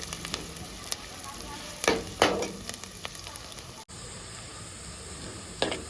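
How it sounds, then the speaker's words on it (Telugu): Onions with a couple of sprigs of curry leaves sizzle steadily in a pan for chicken curry, a continuous close frying hiss with a few louder crackling bursts and brief stirring scrapes, no voices. "తర్వాత ఒక రెండు రెమ్మలు కరివేపాకు వేసుకుంటుండే ఉల్లిగడ్డ మంచిగా ఫ్రై చేసుకోవాలి"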